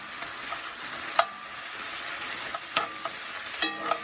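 Steak fries in a cast iron pan with a steady sizzle and crackle, broken by a few louder pops and spatters, heard up close without talk.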